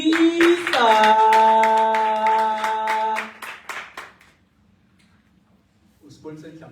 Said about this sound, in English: a round of applause for Mr. Sponiseni